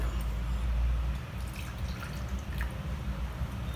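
Milk poured into a pan for Indian shankarpali dough, a steady liquid trickle and splash heard close up throughout, with faint drips near the end.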